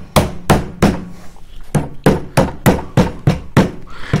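Hammer tapping T-molding trim into place on a floor, ten sharp, close, loud knocks in a steady rhythm with a brief pause midway, no talking.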